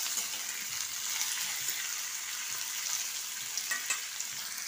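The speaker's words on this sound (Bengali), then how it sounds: "ভাজা আলু আর ওলটা হালকা করে ভাজা হয়ে গেছে।" Potatoes and elephant foot yam frying in oil with shrimp, after chopped onion has browned: a steady, close sizzle and hiss with a few soft crackles and stirring scrapes, no voices.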